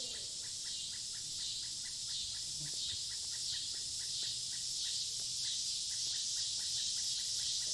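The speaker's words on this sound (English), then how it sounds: "Cicadas, though, that's a familiar sound" A steady, high-pitched buzzing drone of cicadas in a video game forest pulses continuously, with a rapid chirping insect rhythm layered over a quiet forest backdrop.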